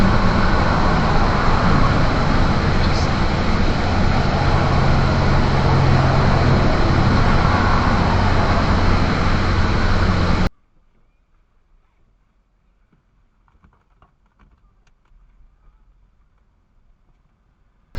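Car driving on a road, captured by a three-channel dash cam: a loud, steady broadband road and engine rumble for about ten seconds, then cutting abruptly to near silence with faint scattered noises.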